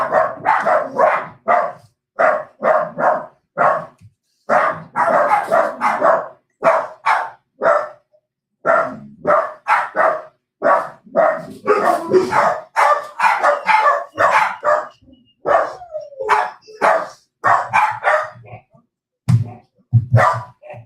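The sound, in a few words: dog barking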